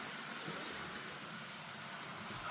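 A model railway train runs along its track, a faint steady rolling rumble with soft hiss and no voices.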